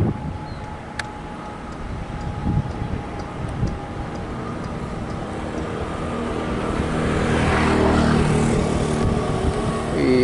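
The yellow CIT track inspection train passes on the KCJB high-speed line, a faint rail rumble with sparse ticking that swells gradually into a louder, closer roar toward the end, with no voices.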